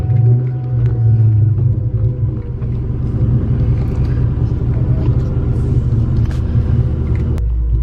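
Car engine running on E85 fuel, a loud, close, continuous low rumble with a steady idle drone and small bumps throughout, ending in a brief deeper surge.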